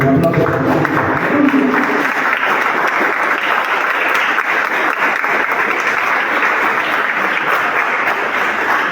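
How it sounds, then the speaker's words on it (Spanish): A church congregation claps together in a sustained, loud burst of applause that fills the hall evenly throughout. "Un aplauso para Él."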